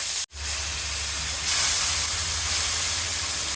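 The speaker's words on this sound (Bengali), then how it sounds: "সামান্য জল দিয়ে মশলাটা কষিয়ে নেব।" Spice paste of ginger paste, turmeric, cumin and chili powder sizzles hard in a pan after a splash of water goes in, a loud, continuous steamy hiss that starts abruptly after a brief cut and holds steady, with no talking.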